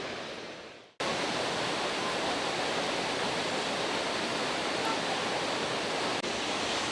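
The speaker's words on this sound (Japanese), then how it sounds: "いや、めちゃくちゃ立派な滝です。" Kawazu Seven Falls in Izu, its tallest waterfall with a 30 m drop, roars as a loud, steady broadband rush that bursts in after a second of quieter wind and then holds unbroken, close and dense, with no voices.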